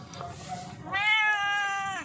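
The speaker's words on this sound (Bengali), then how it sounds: "মিয়াও করো, মিয়াও করো, মিয়াও বলো" A single drawn-out cat meow, clear and fairly close, rising then holding steady, following a brief faint sound and low background rumble.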